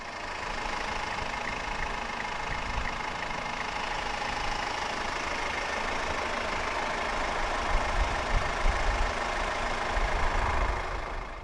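A 2014 Kia Sportage 2.0 CRDi 134 AWD diesel idles close by, a steady, unbroken rumble with a faint knocking edge that holds evenly throughout.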